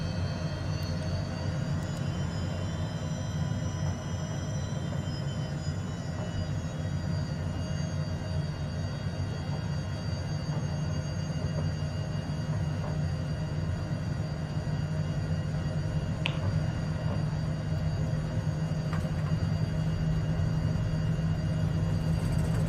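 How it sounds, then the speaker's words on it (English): A HondaJet light business jet taxis after landing at Mannheim airport, its engines holding a steady, continuous whine and hum with high tonal whistles, heard close from the cockpit without speech for the whole stretch. "while I'm taxiing back to the gate"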